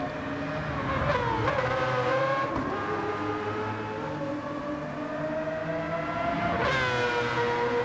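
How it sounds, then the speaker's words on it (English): A race car in a racing video game pulls out of the pit lane on soft compound tyres, its engine droning steadily with rising and falling revs and a sharp upshift near the end, loud and continuous without talk. "we can hear Wayne G exiting the pits now"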